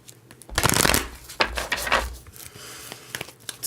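Tarot cards are shuffled by hand close up: a long riffling burst, then several shorter rustling bursts and soft taps, with no voices.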